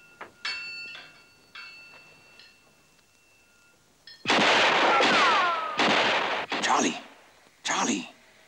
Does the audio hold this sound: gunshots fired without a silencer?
yes